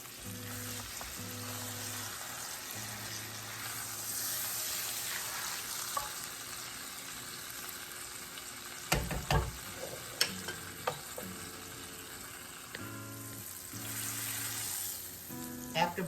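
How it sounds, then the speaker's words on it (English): A chuck pot roast sears in a hot pan, giving a steady, close frying sizzle with a few louder crackles and stirring clatters partway through. No one speaks. "It's gonna sit in there until it starts to sizzle."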